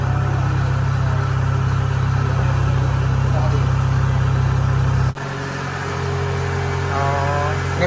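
A new combine rice harvester's engine runs with a steady low idle-like drone, dropping to a lighter hum partway through as the sound shifts, with faint background activity.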